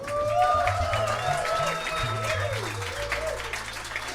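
Applause from a live concert audience welcoming a band at the Blue Note in Dresden, steady clapping with tonal music or feedback lines ringing over it and no voices.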